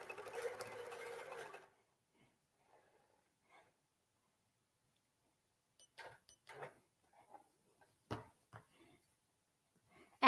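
A sewing machine stitches a quilted handbag made from fabric scraps: one loud, steady run of stitching for about a second and a half, then near silence broken by a few soft handling clicks and taps.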